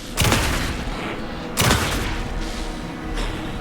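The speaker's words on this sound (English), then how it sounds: "Anderson, pin him down with gunfire for me to get the light on" Gunfire in the video game Alan Wake 2: two sharp, loud bursts about a second and a half apart, then a fainter third shot, over a rumbling game soundscape.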